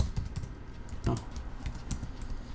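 Quick, uneven keystrokes tap out a command on a computer keyboard, close and fairly soft, with a couple of firmer key presses among the patter.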